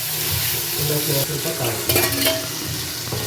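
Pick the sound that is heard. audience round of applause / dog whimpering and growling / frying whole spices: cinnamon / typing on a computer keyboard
frying whole spices: cinnamon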